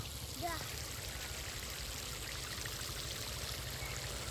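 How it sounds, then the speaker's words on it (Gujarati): Water runs steadily through two irrigation channels on a farm plot, a constant low, faint rushing flow with a brief voice near the start. "બે ધોરિયામાં પાણી ચાલુ થઈ ગયું છે"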